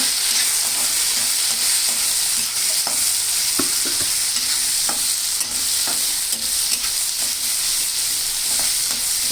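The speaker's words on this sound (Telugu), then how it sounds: "వీటిలో వేసుకొని బాగా కలుపుకుంటామండి." Boiled carrots and green peas being stirred in a sizzling pan for a carrot and pea curry, with a steady frying hiss and repeated scraping stirs throughout, close and loud, no talking.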